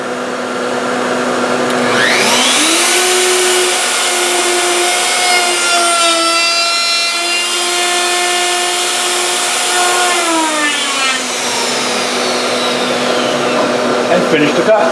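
A Festool router with a straight cut bit whines up to speed, holds a loud steady high-pitched tone while cutting a mortise in wood, then winds down near the end.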